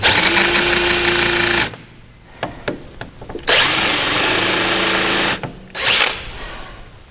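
A 3.5mm drill boring pilot holes for fitting a rally sump guard, two long loud whining bursts separated by quieter handling clatter and taps, then a brief final burst, close by.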